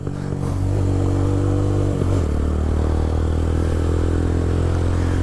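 A motorcycle engine drones steadily up close, then briefly dips and rises as the rider shifts up and rolls back on the throttle, settling into a higher, even pitch.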